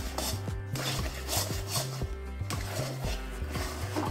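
A coconut, sugar and chhana mixture for sandesh being stirred in a pan to dry it out: rhythmic, close rubbing and scraping strokes, about two per second, over a low steady hum.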